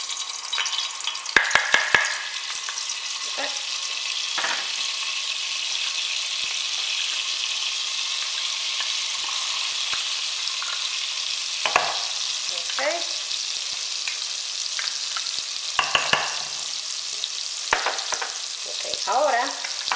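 Butter melting into hot oil in a pot, a loud, steady sizzling hiss that carries on throughout, broken by occasional clicks and clatters from utensils.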